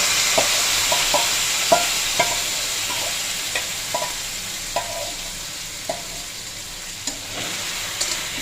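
Lentils stirred into lightly fried potatoes for soybean khichuri, a steady sizzle of frying beneath repeated sharp scrapes and taps of the spoon against the pan, evenly spaced across the stretch with no talking.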